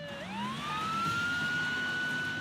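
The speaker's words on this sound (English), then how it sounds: "As police turn on their sirens, the Nissan accelerates." A police car siren wails as officers chase a white Nissan, rising quickly into a loud, steady tone that holds alone throughout.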